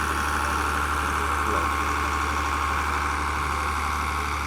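Steady low rumble of a farm truck engine idling nearby at an agricultural fair, constant and unbroken throughout, with faint background noise.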